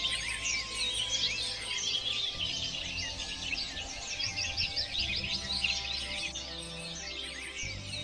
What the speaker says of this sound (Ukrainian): Так, це спів пташок.